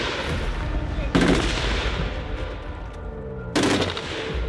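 Two loud, sharp blasts from live grenades during Swiss army stronghold-attack training, spaced a few seconds apart over steady background rumble, with faint voices.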